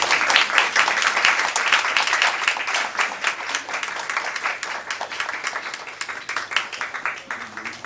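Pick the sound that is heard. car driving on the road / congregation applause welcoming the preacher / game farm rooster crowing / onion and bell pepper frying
congregation applause welcoming the preacher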